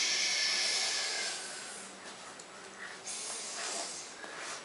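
A human voice imitates a sleeping bear's snoring in a children's read-aloud, with a few breathy, hissing snorts that rise and fade in uneven bursts.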